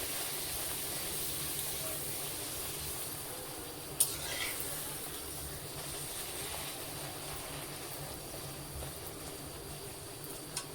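Luchi puffing in hot oil in a home Bengali kitchen, a steady broad hiss of frying running throughout with a couple of brief sharp crackles, close and moderately loud.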